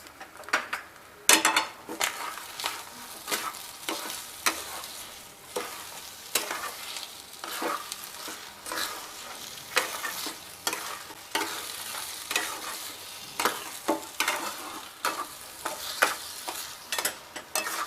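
Semolina sheera roasting in ghee, stirred steadily in a pan as the grains turn loose and separate: a close, continuous sizzle with repeated scraping strokes of the spoon, alone without talk.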